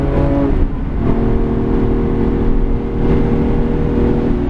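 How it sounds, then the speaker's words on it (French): A car accelerates hard on the Bugatti circuit at Le Mans, heard from inside during a track driving course. A loud, steady engine roar climbs through the gears with one brief dip in the revs and no talk over it. "Et là je peux accélérer."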